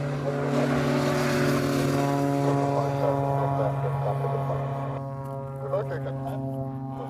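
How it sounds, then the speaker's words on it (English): An Airbus A330 airliner arriving from Tokyo at Honolulu airport drones with a steady, loud, tonal engine hum, gradually easing off later, while someone talks over it throughout. "This 330 is coming in from Tokyo."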